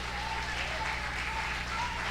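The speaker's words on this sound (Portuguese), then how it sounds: "Vamos aplaudir o nome do Senhor." A church congregation applauds in a steady, dense wash of clapping at moderate level, with a faint tonal hum running underneath.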